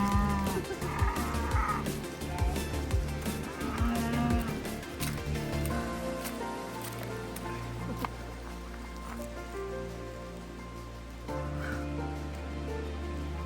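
Wagyu cows on a Texas ranch moo repeatedly, several deep drawn-out calls close by, with quieter farm background noise between them.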